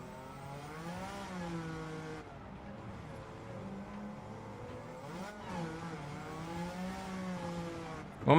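Turbocharged World Touring Car 600 race car engine in Gran Turismo 7 on the Tokyo Expressway, revving steadily through gear changes at moderate loudness, with a sharper burst at the very end.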